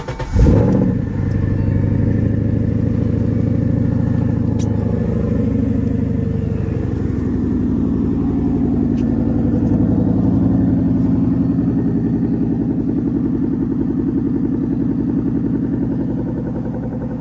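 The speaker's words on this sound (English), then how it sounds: "Let me get y'all a cold start." A 2014 Mustang GT with long tube headers fires up from a cold start, a sharp starter crank and burst into a loud, deep, rumbling idle that holds steady, with no talk.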